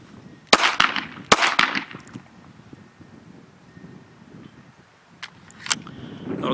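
Gunshots ring out at an outdoor shooting range: a tight cluster of four sharp, loud reports early on, then two more spaced shots later, with wind noise and quiet gaps between.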